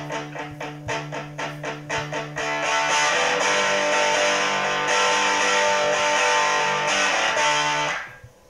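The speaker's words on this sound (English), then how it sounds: "if I decide I wanted a bit more distortion, I can do that and I can just add pedals in post-production" Heavily distorted electric guitar through a distortion pedal in the Amplitube 4 plugin, first a run of chugged palm-muted chords, then a long sustained ringing chord that fades out, loud and close with no talk.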